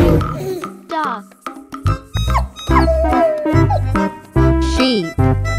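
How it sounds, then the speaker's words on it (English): A dog barks, yips and whimpers in short repeated bursts mixed with whiny, tonal cries, loud and close. "Dog."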